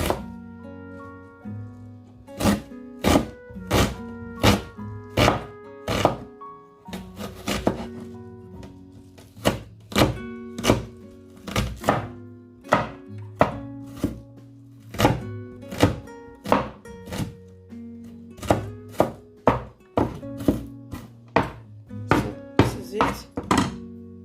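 A knife chopping white onion and pepper on a board for akara, steady rhythmic thuds and knocks, close and crisp, with short pauses between runs of cuts.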